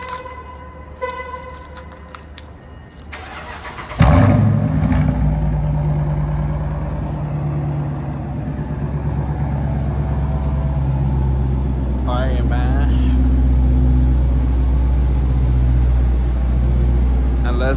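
Dodge Challenger R/T engine warm start: a sharp burst as the engine catches, then a loud, throaty steady idle rumbling nearby, with someone talking over it briefly before and during.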